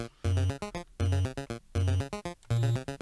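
An official Undertale soundtrack track plays on its own, a loud, rhythmic melody of bright, repeating synth phrases punctuated by short punchy bass hits at a steady pace, with no voices.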